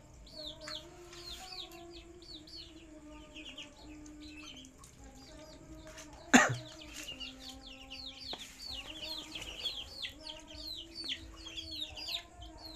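Young Muscovy ducks on a farm at night give a steady chorus of high peeping calls with lower clucks mixed in. A sharp knock cuts through midway, and the chatter then goes on close and busy.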